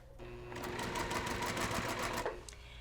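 A sewing machine stitches quilt fabric in one quick, rapid run of needle strokes, a close, even whirring chatter that starts and stops within a few seconds.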